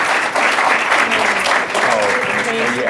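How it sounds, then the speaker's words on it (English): Audience applause for panelists at the close of an Aspen Institute discussion on national service, a loud, dense, steady wash of clapping with a voice speaking over it toward the end. "A round of applause for them and for the Aspen Institute"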